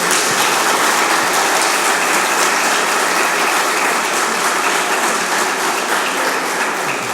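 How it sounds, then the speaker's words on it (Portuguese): A church congregation applauds, dense steady clapping filling the room at full strength from start to finish with no voices over it. "Pode aplaudir Jesus?"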